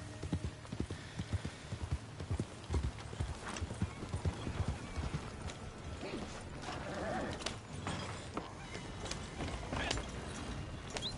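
Horse hooves clip-clop steadily in Red Dead Online on PS5 as a rider urges the horse along, the rhythmic trotting clear over a busy game soundscape with a faint whinny and mechanical creaks.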